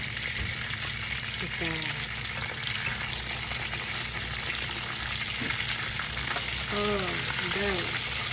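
Chicken cutlets fry in a pan and get flipped partway through cooking, a steady close sizzle and crackle of hot oil that runs throughout with brief clinks from the turning, while a person talks briefly over it.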